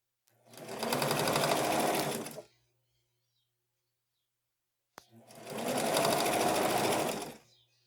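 A sewing machine stitches fabric for a handmade cloth bag in two loud, even runs of rapid mechanical whirring, each lasting about two seconds, with a quiet pause and a click between them.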